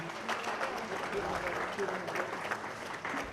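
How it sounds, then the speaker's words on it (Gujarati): Applause rises from an audience at a 2018 matrimonial Svayamvar ceremony in a Malad, Mumbai hotel hall, with steady, moderately loud clapping throughout. "આપણે તાળીઓના ગડગડાટથી"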